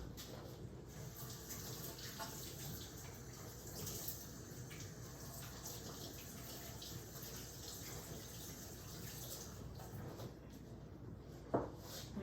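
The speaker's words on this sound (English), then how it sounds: "I'm gonna wash my hands here." A kitchen tap runs steadily while hands are washed under it in a German village home, a soft continuous hiss of water with one faint knock near the end.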